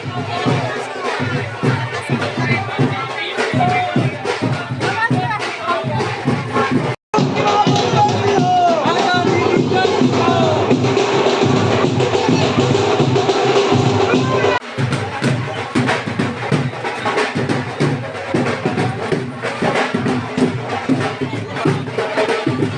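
Dense crowd hubbub from a large gathering of BJP party workers canvassing door to door with candidate Shivnayak in Ward 37 during a municipal election campaign, steady loud babble and shouts with a brief cut partway through.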